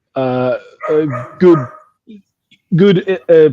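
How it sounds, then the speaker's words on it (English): A dog barks indoors during a casual football chat, loud, close yelps and barks in two short bursts separated by a brief pause. "Dog is going nuts."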